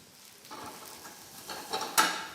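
Zucchini and spring onions sizzle and crackle in a hot pan for a tagliatelle with fresh salmon dish, a steady close frying hiss that builds, with brighter sputters near the end and a sharp pop at the close.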